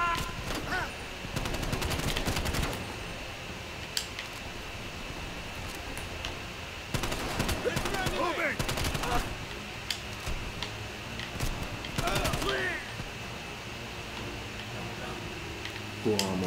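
Automatic gunfire in the Call of Duty: Black Ops Cold War campaign comes in several rapid bursts, sharp and dense, separated by quieter stretches of steady background hum.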